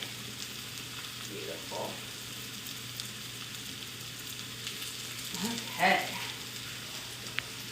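Steak and snow peas sizzling in a stir-fry pan, a soft steady crackle with a brief louder stir near the end, while a person says a few words.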